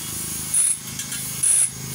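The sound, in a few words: tightening a part while aligning a stock fan (pamaypay)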